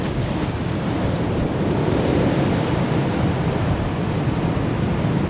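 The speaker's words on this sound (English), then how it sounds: "As you can tell, the waves is coming up the steps now a bit." At high tide on a windy day in Blackpool, choppy sea surges up the promenade steps, heard as a steady, loud roar of surf blended with gusty wind buffeting the microphone, continuous with no voices.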